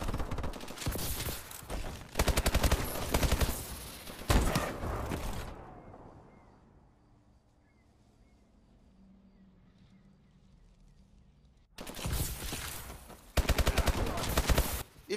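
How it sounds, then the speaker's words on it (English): Dense video game gunfire from a collateral trick shot crackles in rapid overlapping bursts, stops for several seconds of near quiet, then erupts again just as loudly. "At number 1, we got my boy Zengence with a 2-piece collateral trick shot."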